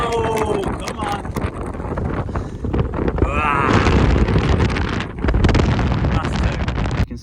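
Strong, gusty wind buffets the microphone on the summit of Snowdon, a loud continuous roar with a sudden surge midway, while a climber's breathing and voice sounds mix in close under the rumble.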